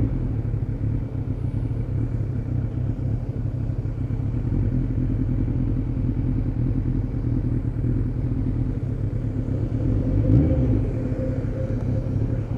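Suzuki Bandit 600 motorcycle with a carburetor issue, engine droning and rumbling steadily while riding on the road, loud and close, with a short rising rev blip near the end.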